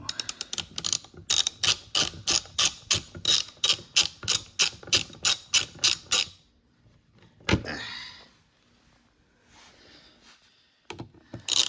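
Rapid clicking of a ratchet driving a T25 bit on hex head screws during DEF heater work on a 2014 VW Passat TDI 2.0, a steady run of sharp close clicks for about six seconds, then a single clunk and quieter handling.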